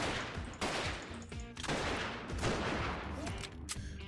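Gunfire in the tower-defense game Artificial Defense comes as bursts of rapid shots separated by brief pauses, fairly quiet and continuing for about four seconds.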